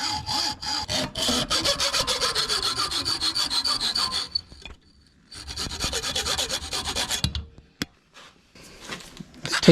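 Metal file rasping the burred cut end of a tent pole held in a vise, steady rhythmic back-and-forth strokes, close and loud, pausing midway then resuming in shorter strokes.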